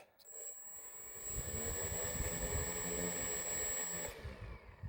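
A model airplane's small electric motor whirs steadily at a high, even pitch for several seconds, rising in at the start and cutting off near the end.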